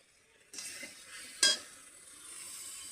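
Spice mixture of chili powder and turmeric stirred with water in a pan, a few soft scraping strokes with one sharper clatter of the spoon, close and alone.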